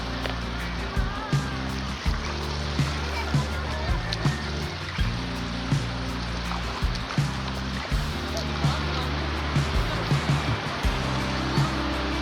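Sea waves wash in at Hawksbay Beach in Karachi as surf rolls and hisses continuously near the shore, with a rhythmic low thumping underneath and voices faintly present throughout.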